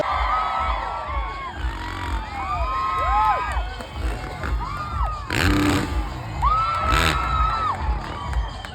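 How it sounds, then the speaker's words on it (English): Large crowd at a supercross championship freestyle motocross show cheering, whooping and shouting loudly for nearly nine seconds, with bursts of screams and whistles rising and falling over a steady roar. "The crowd is going crazy out here because the FMX"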